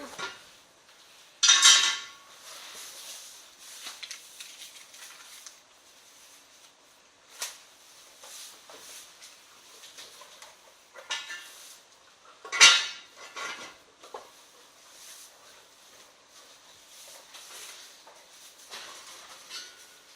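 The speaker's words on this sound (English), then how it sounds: "My Dutch ovens, my cast iron Dutch ovens." Cast iron Dutch ovens handled in a hot oven while baking sourdough rye bread, with a few sharp metallic clanks and scrapes spread over a quiet stretch and faint handling noise in between.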